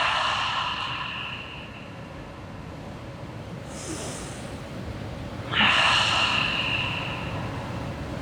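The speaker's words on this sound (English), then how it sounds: "Inhale deeply through your nose and then exhale through the mouth." Two deep breaths during a yoga practice, each a slow nasal inhale followed by an audible breathy exhale through the mouth, heard close with a steady hiss of breath and no talking.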